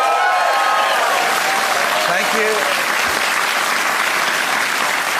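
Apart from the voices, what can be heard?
studio audience applause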